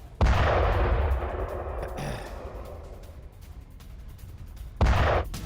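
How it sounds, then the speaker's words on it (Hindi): Two deep, booming blasts from bombing strikes in the Iran–Israel war, the first followed by a long rumbling decay, the second arriving a few seconds later; loud and alone. "एक नहीं दो नहीं कई धमाके होते हैं"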